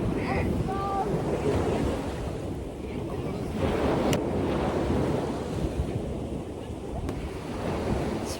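Evening sea waves wash onto the shore at Çeşme, a constant close surge of surf mixed with heavy wind buffeting the microphone.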